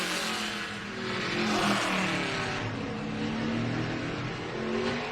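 A race car accelerates on track during practice and qualifying for the 2022 Call 811 Before You Dig 250, its engine loud and close with steady rising revving tones and no pause for the whole stretch.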